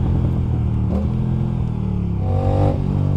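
An Aprilia RS 457 motorcycle with a 270-degree crankshaft engine revs up close and loud, a deep, steady throbbing drone that swells slightly toward the end.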